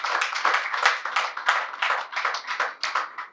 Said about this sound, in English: So let's give the PNM and Foster a round of applause.